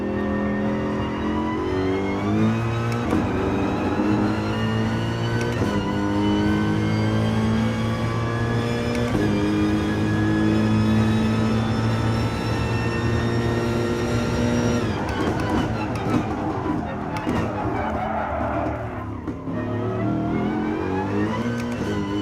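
A race car in Gran Turismo Sport laps the Nürburgring, its engine loud and continuous, climbing in pitch and dropping sharply at each gear shift, with steady revving throughout and no talk.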